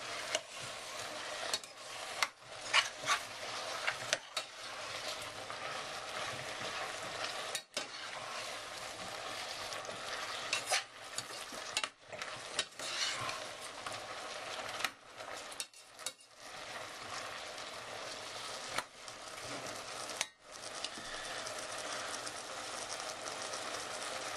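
Mushrooms frying in a pan for risotto, a steady close sizzle broken by repeated scraping and knocks of a utensil stirring against the pan, with no voices.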